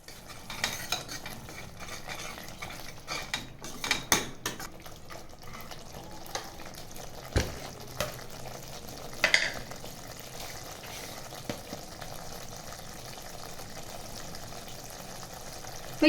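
Chana masala gravy simmering in a pan while being stirred, a faint continuous bubbling hiss with scattered soft spoon scrapes and clinks, no talking.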